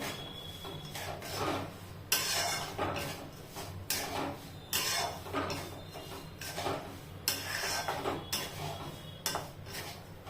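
Semolina (rava) roasting on low flame is stirred in a pan with a spoon, producing repeated scraping and clinking strokes in a steady rhythm, close and moderately quiet.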